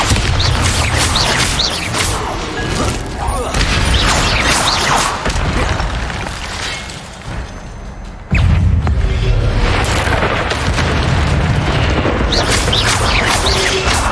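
Confringo and Bombarda spell explosions in Hogwarts Legacy, a modded game: loud, continuous booming blasts and crashes layered over each other, with a brief dip before another heavy burst.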